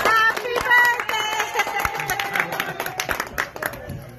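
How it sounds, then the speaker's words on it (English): At a surprise birthday party, a small group claps in scattered, uneven bursts at close range, mixed with excited voices and chatter. "everybody's doing clap"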